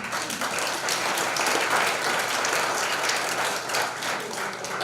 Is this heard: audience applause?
yes